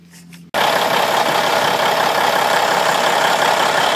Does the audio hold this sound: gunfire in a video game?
no